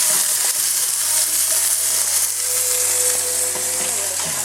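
Double bacon cheddar burger patties sizzle steadily in a hot pan, a constant bright frying hiss with faint clicks, close and continuous with no talking.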